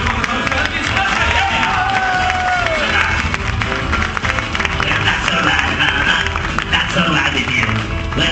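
A live audience at a stage show applauds an Elvis Presley impersonator in a dense, continuous wash of clapping and cheering, loud and sustained, while a voice carries over the crowd.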